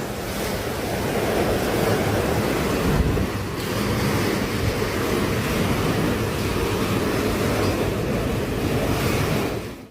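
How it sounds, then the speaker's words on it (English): Water sloshing in a swimming pool on the roof of a high-rise building during an earthquake: a loud, continuous rushing wash of churning water like heavy surf, with wind buffeting the microphone and no voices. "Here you can see how the water in a swimming pool on top of some high-rise building behave."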